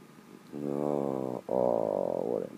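A pet cat purrs softly and closely in two long rumbling stretches with a brief pause between them, in an otherwise quiet room.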